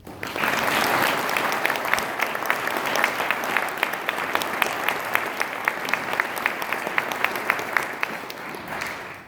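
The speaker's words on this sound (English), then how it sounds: "I would like to give her and her brother Tim a round of applause." An audience at a fire conference badge-pinning ceremony in Ketchikan, Alaska, applauds warmly; dense clapping starts, then settles into a steadier rhythmic clapping that continues to the end.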